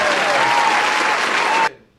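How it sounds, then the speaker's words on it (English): A round of applause for a podcast guest, a burst of dense clapping and cheering that holds steadily for under two seconds and then cuts off abruptly. "let me get a round of applause."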